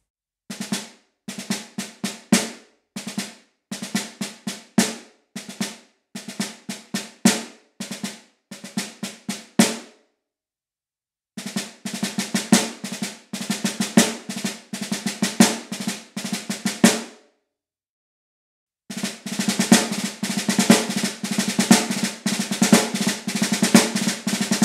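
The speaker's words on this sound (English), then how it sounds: "a Double Ratamacue is essentially a hybrid rudiment because it's made up of two separate rudiments" Double ratamacue rudiments on a snare drum: quick drag-ornamented rolls leading into accented strokes, played in sharp bursts separated by short silences, then as a longer continuous pattern.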